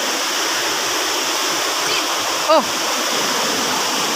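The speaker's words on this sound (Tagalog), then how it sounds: "Laki ng sapa, oh." A large stream rushes steadily nearby, a dense, continuous watery hiss like a small waterfall, with a brief exclamation from a voice partway through.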